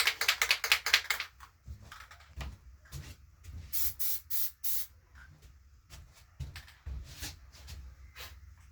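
An aerosol can of Plastidip sprays onto a half helmet in rapid short bursts, then in longer hissing passes, close up with quiet pauses between coats.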